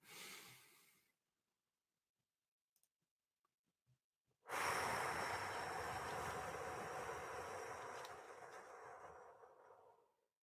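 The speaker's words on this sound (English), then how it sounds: "Breathing in for 5" A long, slow meditative in-breath is drawn close to the microphone, a steady airy rush lasting several seconds after a brief exhale and a quiet pause.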